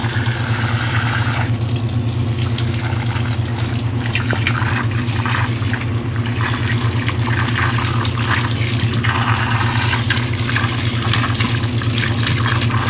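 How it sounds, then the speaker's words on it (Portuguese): Water runs steadily from a tap while a child's hair is rinsed during a lice treatment, a continuous loud rushing wash with no pauses and no talk over it. "E aí é só lavar com água e depois eu vou lavar com shampoo e condicionador"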